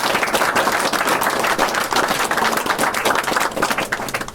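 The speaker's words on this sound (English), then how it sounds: "Big round of applause." Loud, dense applause from wedding guests at a ceremony, steady clapping filling the whole stretch and easing slightly near the end.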